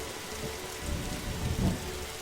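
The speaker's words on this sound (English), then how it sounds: "Every time I bring a book back, I end up on the roof in the rain." Steady rain and rolling thunder on a rooftop in The Darkside Detective video game: a constant hiss of rainfall with low rumbles swelling twice, the second nearer and louder, no voices.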